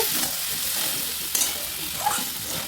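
Pumpkin egg bhurji with garam masala and chopped coriander being stirred in a pan, a continuous low sizzle under scraping and stirring, with a couple of sharper clinks of the spatula against the pan, no speech.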